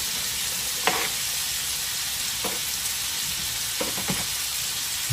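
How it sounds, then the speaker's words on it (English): Steady sizzle of a pasta pan as spinach and sun-dried tomatoes go in, with a few brief clatters of utensils or ingredients landing against the constant frying hiss; no talking. "Now we're gonna add our spinach in at the end."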